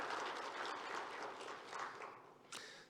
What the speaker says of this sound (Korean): 다시 한번 우리 헌신해 주시는 봉사부 부원들을 위해서 박수 한번 하겠습니다.